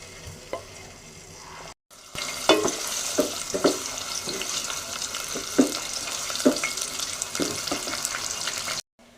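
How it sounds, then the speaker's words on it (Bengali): Chopped onions and green chillies brown in oil in a pot, giving a steady sizzle broken by irregular scraping and knocking taps of a stirring spoon, close and fairly loud, with no one speaking. "এবং তেল দিয়ে এটা কিছুক্ষণ বাদামি করে ভেজে নিব।"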